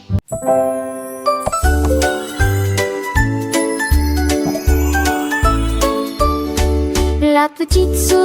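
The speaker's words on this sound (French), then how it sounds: "On entend une sonnerie dans le jardin." A bright, tinkling chime rings out in a playful children's song, with repeated ding notes over a bouncy bass rhythm and no voices.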